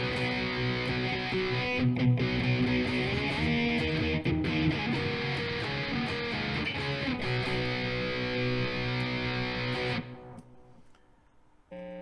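A Spectrum Strat-type electric guitar, played through the middle and bridge pickups together, rings with strummed distorted chords that sustain loudly and evenly, then cut off near the end, leaving a faint hum and noise.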